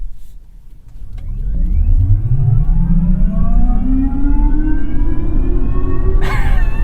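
An electric car plays its selectable artificial driving sound, a synthetic engine-like tone that sweeps steadily upward in pitch as it accelerates, loud and close, with a brief click near the end.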